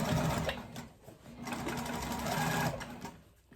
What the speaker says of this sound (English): Sew at the pace that you're comfortable with.